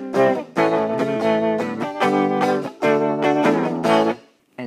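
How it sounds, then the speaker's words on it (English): Distorted electric guitar plays a series of sustained chords and notes with a wavering, wobbling pitch, stopping briefly between phrases, with no one talking. "Vibrato makes it seem like it's vibrating by moving it up and down in pitch."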